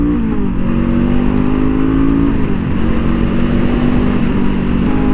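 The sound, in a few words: Honda CL 500 motorcycle engine at high speed on racing track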